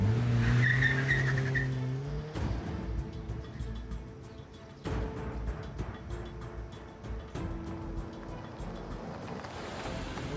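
A car brakes hard and skids to a stop with a rising tire squeal at the start, then settles into a rumbling idle with shifting road and engine noise.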